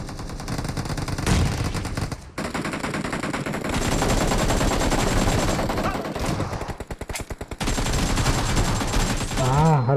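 Shotgun gunfire in the mobile battle royale game BGMI, a dense run of loud, rapid shots filling most of the stretch with brief pauses, near and prominent.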